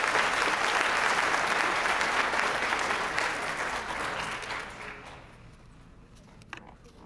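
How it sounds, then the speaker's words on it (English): Crowd applause at a high school graduation ceremony, loud and sustained at first, then gradually thinning and fading until only a few scattered claps remain. "Let's give him a round of applause"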